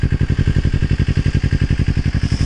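Kawasaki Ninja 250R with a Blueflame twin exhaust, baffles removed, idles close by with a loud, rapid, even pulsing thump and a rattly edge, running steadily throughout.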